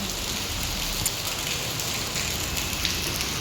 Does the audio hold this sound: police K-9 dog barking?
no